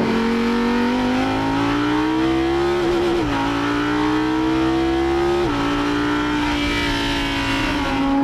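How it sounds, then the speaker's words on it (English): An Audi R8 evo's big V10 revs hard and loud up close, its sharp-edged barking exhaust note climbing in pitch, dropping abruptly at gear changes around the three- and five-and-a-half-second marks, then climbing again with no talk. "from outside it's this amazingly serrated, sharp-edged, barking sound"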